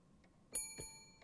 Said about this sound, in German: Du musst die Klingel drücken, damit jemand weiß, dass du da bist.